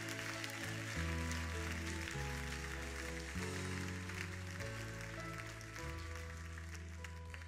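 Church congregation clapping hands in praise during a worship service, a sustained wash of applause beneath loud organ or keyboard chords that play on throughout.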